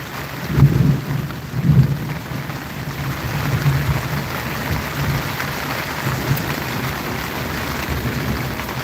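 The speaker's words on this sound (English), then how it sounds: "the lightning and the thunder were pretty much simultaneous" Close thunder during an outdoor thunderstorm, with two heavy rumbling booms early on that fade into a continuous loud wash of rain, and no talk.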